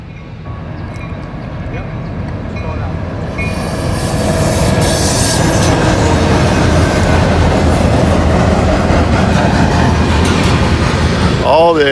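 A freight train hauled by SD40 locomotives rolls past close by, a loud sustained roar of wheels and cars that builds over the first few seconds, with squealing wheel flanges and rhythmic clatter on the rails.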